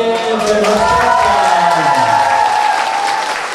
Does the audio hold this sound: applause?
yes